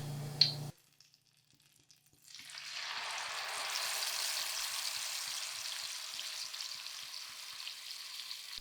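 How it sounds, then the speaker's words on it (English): Marinated chicken pieces hit hot ghee and oil in a frying pan, a brief clatter followed by silence, then a steady, loud bright sizzle that rises and holds for several seconds, with no talk. "Now add one by one chicken pieces slowly to the frying pan"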